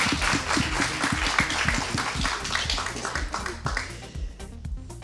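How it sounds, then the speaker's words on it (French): An audience applauds Pauline at the close of a literature quiz session, a fairly faint patter of scattered claps that thins toward the end, with voices talking over it. "Oh, on applaudit Pauline."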